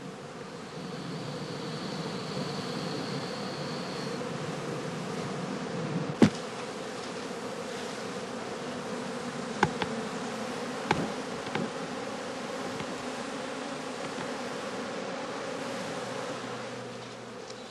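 Honeybees from beekeepers' skep colonies buzzing steadily in a dense swarm drone, with a few faint clicks and knocks over the continuous hum.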